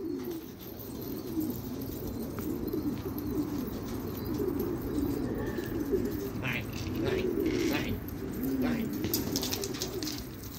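Pigeons coo repeatedly nearby, soft rolling calls over a low background hum, with a few sharper chirps and faint human voices in the background.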